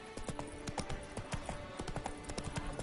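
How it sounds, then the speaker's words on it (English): Steady clip-clop of Roach's hooves, Geralt's horse in The Witcher 3, trotting in a continuous close rhythm of hoofbeats with no talk. "Come on, Roach."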